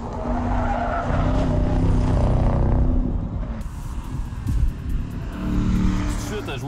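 A Dodge Durango SRT runs flat out on a track straight, its engine roaring loud and steady before the sound drops and shifts partway through, with tire noise and some talk over the top.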